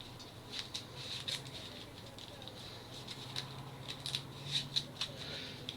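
A deck of playing cards for a villain board game being shuffled, with soft patter and riffling rustles repeating across the stretch, quiet and close against a low background hum.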